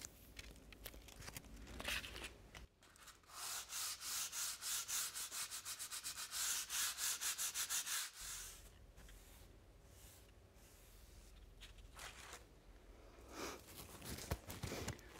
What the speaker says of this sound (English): I'm going to do that with a medium grade sandpaper